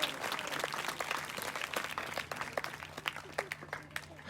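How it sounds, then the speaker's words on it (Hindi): A church congregation at a gospel convention in Gurdaspur claps loudly in a dense, continuous wash of applause, many hands together, with a low steady hum beneath. "जोरदार ताली बजाकर परमेश्वर का धन्यवाद करें।"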